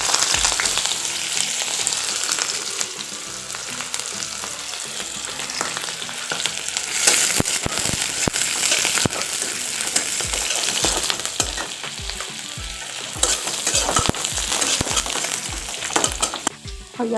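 Onions sizzling in hot oil with bay leaf and panch phoron, a steady loud frying hiss with scattered crackles and pops throughout, no voices.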